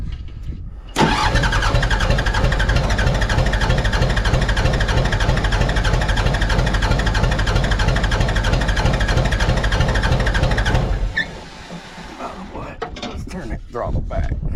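A Mitsubishi BD2F dozer diesel engine cranks and catches after years of sitting, then runs loud and steady at close range for about ten seconds before shutting down, leaving faint clicks and movement.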